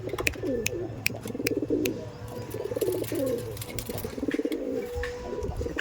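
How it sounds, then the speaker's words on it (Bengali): Kalanka breeder pigeons coo repeatedly in a loft, low throaty rolling calls in overlapping bursts close by, with sharp clicks and faint background noise. "দেখুন আবারও একটি বিডার পায়রা দেখাচ্ছি দাদার কাছে"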